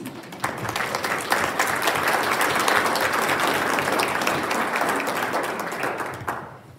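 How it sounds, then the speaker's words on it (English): A hall audience at a Wyoming hunger-relief gathering breaks into a sustained round of applause, dense overlapping claps building quickly, holding steady and loud for several seconds, then cutting off near the end. "you should stand up and get a big round of applause"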